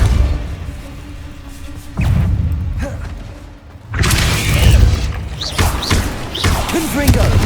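Casting the Depulso force spell in Hogwarts Legacy brings a heavy whooshing blast and thump, followed by a louder, sustained rumbling impact with debris-like crackles and swishes.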